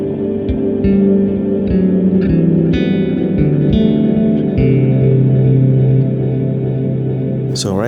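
Ambient bass line from a synthesizer run through an Erica Synths Echolocator delay with reverb, sustained low notes stepping slowly with plucked upper harmonics and echo tails, loud and steady with no talking.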